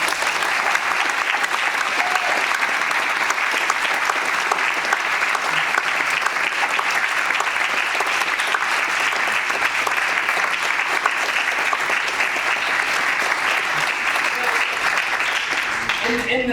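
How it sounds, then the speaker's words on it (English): Sustained, dense applause from a conference audience at the Natural History Museum in London, loud and steady throughout without pause. "Please all give our round of applause."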